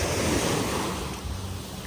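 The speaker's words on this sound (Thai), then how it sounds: "เพราะว่าอย่างคลื่นมันแรงแบบเนี้ย" Strong sea waves crash and wash at a Thai beach in a brief, loud, continuous roar of surf, with some wind noise on the microphone.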